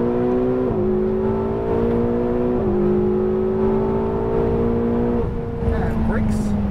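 A Ferrari 488 GTB on track accelerating hard at full power, its loud engine note climbing steadily and dipping briefly at three quick gear shifts before easing off near the end.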